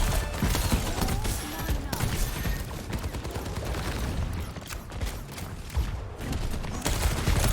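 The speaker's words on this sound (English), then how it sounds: "his normal firing sounds still the same" A hero's standard weapon fires in Overwatch 2, dense and sustained shots running the whole stretch amid constant game effects, with a player talking over it.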